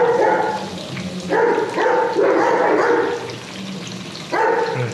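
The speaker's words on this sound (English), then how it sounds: "Our dogs are having a battle outside." Several dogs fighting outside bark in sharp repeated bursts with pauses between them, moderately distant and heard from indoors, with no talking.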